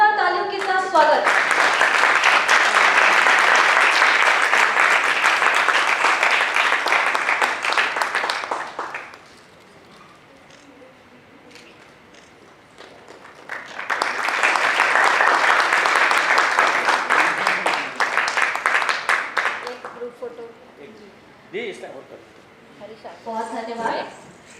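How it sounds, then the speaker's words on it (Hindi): Audience at a stage play in India welcomes the play's writer with enthusiastic clapping in two long, dense bursts separated by a quieter stretch in which someone speaks over the hall. "जोरदार तालियों के साथ स्वागत।"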